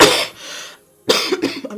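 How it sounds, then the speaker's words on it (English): A person coughs several times: a harsh burst, a pause, then a couple of shorter rough coughs close by, with no talking. "I'm just having cough."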